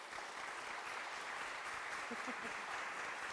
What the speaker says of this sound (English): So let's give these ladies a round of applause as well.